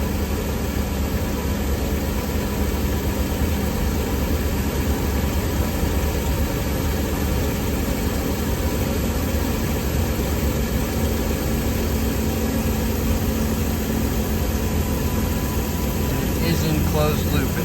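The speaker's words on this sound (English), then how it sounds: "So I'll go ahead and start it up. Now it's running." A car engine idles steadily after a cold start at about 1100 RPM, a constant low hum and whir that holds unbroken throughout, with someone speaking over it.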